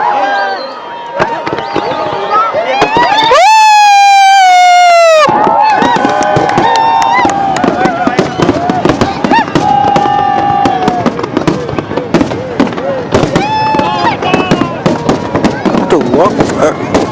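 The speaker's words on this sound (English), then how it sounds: "this is one of the biggest fireworks that's happening in the AlMajaz waterfront in Sharjah" New Year fireworks over Al Majaz Waterfront in Sharjah burst in rapid, crackling volleys of sharp bangs, loud and sustained, with a whistling rocket rising early on, as crowd noise and voices carry underneath.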